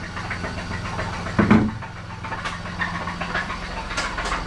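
The engine of a 1999 Camaro LS swap project car, damaged from racing, runs in a garage as a low, even rumble with one brief heavy thump early on.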